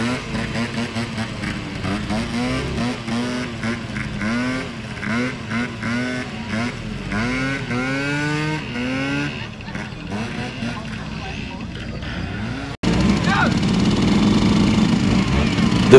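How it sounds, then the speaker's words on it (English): Several scooters, a Honda Spacey among them, putter along at low speed in a slow ride competition, with wavering engine notes rising and falling under voices, then a louder steady engine roar at the end. "festivities turn to a slow ride competition. And this is where the Jap scooters really held their own."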